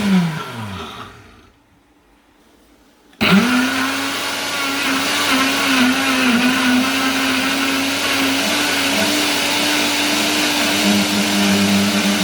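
A Qasa blender whirs as it blends melon, crayfish and achi. A motor winds down into near silence, then roars back on and runs as a loud, steady, close whir with some rattling.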